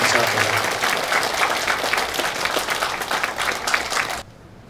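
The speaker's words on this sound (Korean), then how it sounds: "큰 박수 부탁드립니다" Dense, loud applause from the audience at a memorial ceremony for the 15th anniversary of the Daegu subway disaster, a steady wash of many hands that cuts off abruptly near the end.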